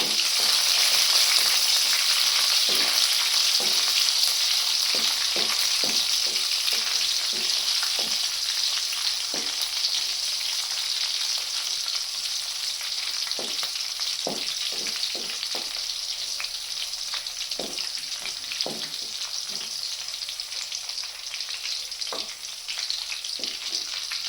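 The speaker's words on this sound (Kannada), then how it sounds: "ಈಗ ಹಸಿಮೆಣಸಿನ್ಕಾಯಿ ಹಾಕ್ಕೊಳ್ಳೋಣ. ಸ್ವಲ್ಪ ಫ್ರೈ ಆಗಲಿ." Green chillies fry in hot oil for carrot rice, giving a loud, steady sizzle throughout with scattered small pops and crackles, close up and without speech.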